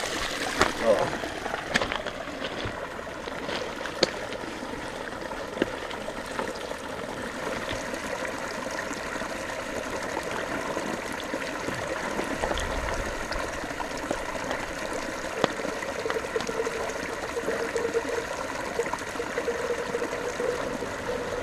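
Cold snowmelt mountain stream water pours and trickles steadily in a wilderness spot during an outdoor shower, a continuous close splashing wash with occasional clicks and brief voice sounds.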